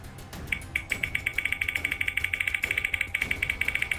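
A real prize wheel spins on a trivia quiz show, its pointer ticking rapidly against the pegs in a steady run of sharp clicks that continues for several seconds over low background hum, without speech.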